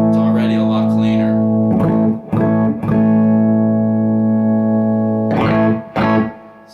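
Sustained distorted electric guitar chords ringing through a Fender '65 Deluxe Reverb Reissue tube amp turned full up, with a few strummed attacks and a buzzy, saturated tone.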